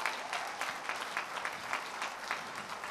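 Steady audience applause at a graduation ceremony for the 14th graduating class, a dense, even patter of many clapping hands held at a constant level for the whole stretch.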